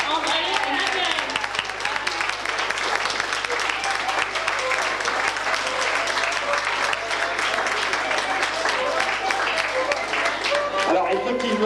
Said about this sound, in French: Applaudissez de jeunes mannequins, André et Madeleine.